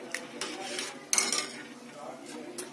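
Spoon clinking against a metal cooking pot as chopped green chillies are stirred into a dal rasam, with several light scattered taps and scrapes close by.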